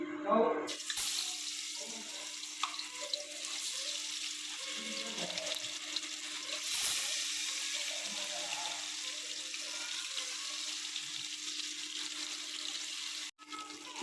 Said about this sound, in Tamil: எண்ணெய் வந்து காஞ்சிருச்சு. இப்போ நம்ம வந்து மீன் வறுத்துக்குவோம்.